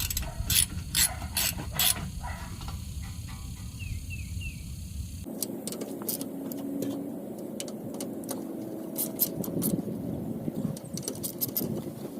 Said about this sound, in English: I'll go ahead and use my ratchet to get everything snug down.